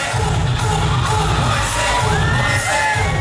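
A pageant audience for pregnant contestants cheers and shouts loudly and continuously, a dense crowd roar with excited children's voices mixed in, close and sustained throughout.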